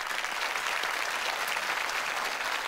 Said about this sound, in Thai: ปรบมือน้องอุ้มหน่อย